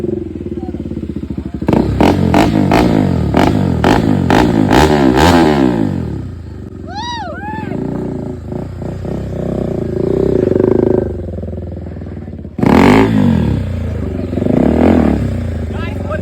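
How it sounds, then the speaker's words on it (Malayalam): Royal Enfield-style 390 motorcycle fitted with a new aftermarket exhaust, loud close revving in repeated sharp blips, then idling and another hard rev, with people talking over it. "നമ്മളൊരു മച്ചാൻ എക്സോസ്റ്റ് വെച്ചോണ്ട് വന്നേട്ടാ നമുക്ക് പൊളിക്കാൻ"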